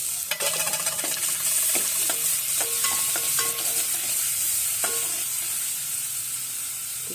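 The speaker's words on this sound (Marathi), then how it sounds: "जिरं चांगलं भाजलं की त्यात हे आलं, लसूण आणि कोथिंबीरची पेस्ट घालून घ्यायची" A paste of ginger, garlic and coriander fries with roasted cumin in a pan, making a steady bright sizzle. Sharp clicks and scrapes from stirring punctuate it, with no talking.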